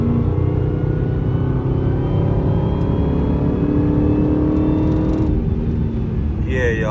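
A Dodge Hellcat on its stock intake revs and roars steadily throughout, a loud continuous engine note with rising whine, tire and road noise mixed in near the end.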